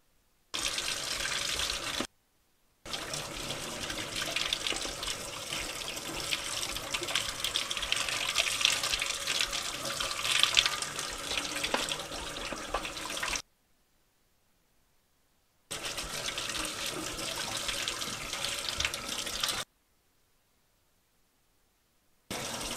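Tap water runs steadily into a kitchen sink while a dirty PC part is rinsed under it, a broad close gush with brief breaks where the flow or recording cuts out.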